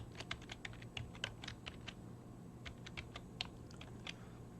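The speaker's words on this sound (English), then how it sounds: "I'll go ahead and type in my password." Quiet, close tapping on a computer keyboard as a password is entered, a quick uneven run of light key clicks with short pauses over faint room hum, no speech.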